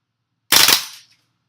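WE Apache MP5 gas blowback airsoft gun firing a short burst, a quick cluster of sharp, loud pops lasting about half a second, then silence.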